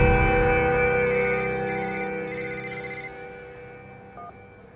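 A telephone rings in a French drama scene with an electronic trilling ringtone: three short bursts repeating at a steady pace over a low background hum, moderately loud and close, with no talking.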